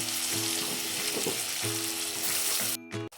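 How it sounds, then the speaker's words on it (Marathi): Browned onion fries in a pan with added spices, giving a steady close sizzle with intermittent tonal scraping of a utensil against the pan. It breaks off abruptly near the end, and no one speaks. "कांदा आता लाल झाला आहे आता हे मसाले टाकून घेते"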